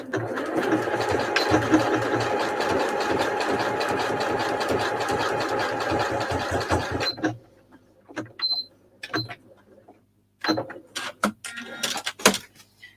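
A sewing machine zigzag-stitches scrap fabric for scrap rolls, running in a long steady rattling burst up close, then stopping for a few short starts and clicks with quiet gaps.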